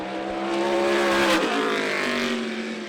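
A Fury-built modified race car, the number 21 of Tutterow Racing, roars past on a racetrack at the 2024 Robert Jeffreys Memorial. Its engine is loud and close, with a rising and falling pitch as it sweeps by, and there is no talking.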